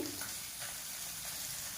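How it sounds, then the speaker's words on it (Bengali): Fish frying in hot oil, a steady, close, continuous sizzle that holds evenly for the whole short stretch with no voices. "এই দেখো একটু মাছ ভাজা করছি"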